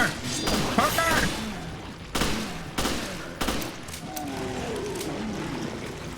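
Gunfire in the video game Resident Evil Revelations on PC, several separate sharp shots and bursts spaced across the stretch with faint game sounds between them.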